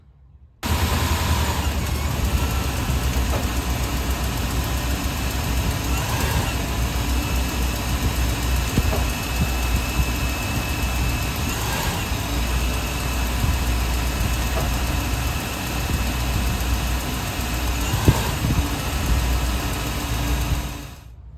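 A Lexus LX470 engine running steadily with a continuous low rumble and hum, with no breaks and no talk.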